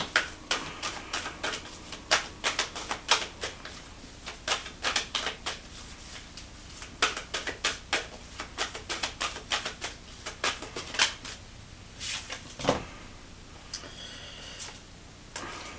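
Oracle cards being shuffled, a rapid run of crisp, close card snaps and flicks in irregular bursts, with no talking.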